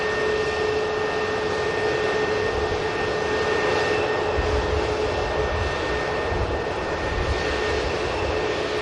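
Airbus A321neo jet at Manchester Airport in KLM colours, a steady broad engine roar with a sustained whine, moderately loud and continuous with no talk.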